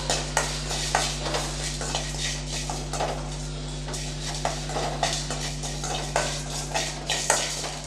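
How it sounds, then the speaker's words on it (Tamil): Curry leaves with rock salt being sautéed in a pan for idli podi, a steady stirring scrape with frequent sharp utensil clinks against the pan over a constant low hum, close and fairly loud. "கருவேப்பிலையும் கல்லுப்பு சேர்த்து வதக்கும் போது உங்களுக்கு சீக்கிரம் நல்லா வதங்கி வதங்கிடும்"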